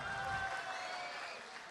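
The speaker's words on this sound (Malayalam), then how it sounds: "ഖാദറിന് നല്ല ഒരു കൈയടി" Crowd applause for Khader at a Malayalam comedy stage show, a soft wash of clapping heard faint and distant, fading slightly toward the end.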